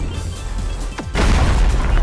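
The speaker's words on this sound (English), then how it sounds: "Hit him with the star. Exploding star." Bakugo's exploding star attack in the game Heroes Battlegrounds lands as a sudden loud blast that rises into a sustained roaring explosion, after a brief whooshing sweep.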